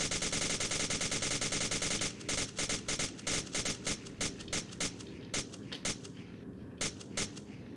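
An FN P90 in a video game fires on full auto, a dense rapid burst for about two seconds, then a run of separate single shots spaced unevenly, loud and close.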